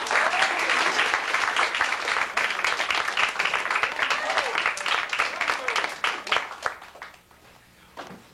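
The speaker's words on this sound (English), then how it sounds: "Let's have a round of applause." Audience applause from a crowd, steady and dense for about seven seconds, then tapering off into a few scattered claps at the end.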